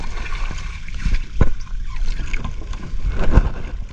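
Master Gabi's fishing boat rocks on open water, with close hull knocks, water sloshing and gurgling against the sides, and wind over the microphone in a steady, moderately loud wash.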